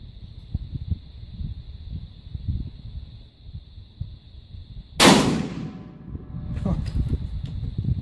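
A single sharp gunshot from a 6.5 Grendel rifle cracks out loudly partway through, preceded by a steady hum and low thumps, with a ringing tail and muffled rustling after.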